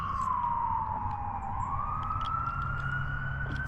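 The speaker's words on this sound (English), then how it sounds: "we got a siren coming" An ambulance siren wails steadily and loudly as it approaches, with a sweeping tone over the low rumble of street traffic.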